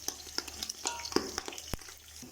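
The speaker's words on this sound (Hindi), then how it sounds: "बीफ मंदी बिरयानी के लिए गोश्त जो है वो फ्राई हो रहा है।" Beef pieces frying for a Yemeni-style beef mandi, with a soft sizzle beneath irregular stirring clicks and scrapes of a utensil against the pan, one sharp knock standing out near the end.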